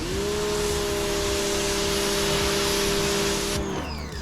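A Yardforce electric pressure washer rinses with a steady, loud hissing spray that holds evenly for about three and a half seconds, then cuts off abruptly, leaving quiet, with no talking.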